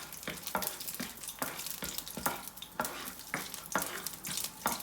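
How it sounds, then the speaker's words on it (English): Black pepper seeds sauteing in hot oil, with a steady close sizzle broken by repeated sharp crackles and spatters, no voices. "And now I will just saute these for about 5 to 6 seconds"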